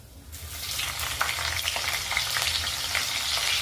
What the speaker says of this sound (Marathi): तेल गरम झाले आपल्याला याच्यामध्ये घालायचं कट केलेली मिरची